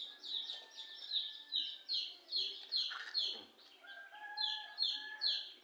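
Chickens call in a steady series of high, short, repeated peeping clucks at a moderate distance, rising and falling in a regular rhythm with no talk over them.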